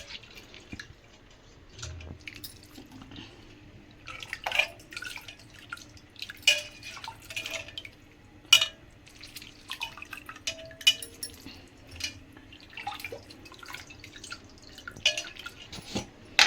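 Minced boneless mutton being washed in water in a bowl, with quiet scattered drips, splashes and sloshing sounds arriving in irregular bursts against a near-silent background.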